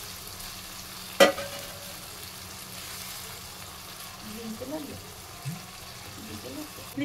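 Water poured into chicken kabab gravy in a pan sizzles and bubbles softly, a low steady frying hiss with a sharp clink early on and light stirring, while a person talks over it.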